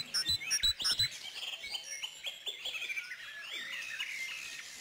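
Several small birds chirp and twitter steadily in a wild, overgrown garden, their bright calls layered and continuous, with a few soft knocks early on and no voices.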